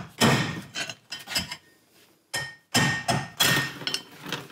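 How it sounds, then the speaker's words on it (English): A long screwdriver knocks and pries at an oil seal in a 1967 Jaguar E-Type independent rear suspension hub, giving a series of sharp metallic taps and thuds in irregular bursts separated by short pauses. "I'll pop the oil seal out from the inside with this long screwdriver"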